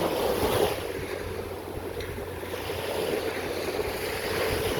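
Steady wash of sea waves with a low rumble and some wind buffeting at Coron, Palawan, continuous throughout with no talking.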